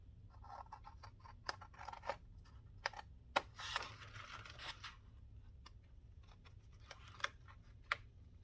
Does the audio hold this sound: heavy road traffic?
no